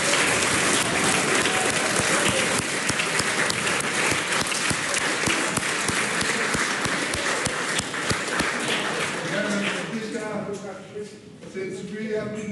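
Loud, sustained clapping and cheering from the gallery in a parliament chamber after a bill passes, dense and continuous, with voices starting to sing near the end as the clapping eases.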